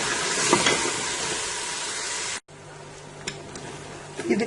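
Mutton trotters (paye) fry in a pot with a steady close sizzle and hiss, broken by a sudden brief cut, after which quieter crackling continues with a few light clinks.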